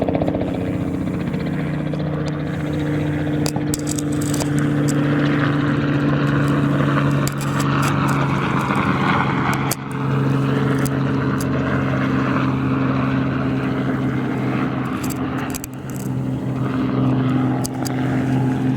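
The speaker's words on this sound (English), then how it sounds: "And here comes our helicopter." A loud, throbbing rotor drone holds steady throughout, a helicopter flying close overhead in Cape May, with occasional clicks and rustles near the microphone.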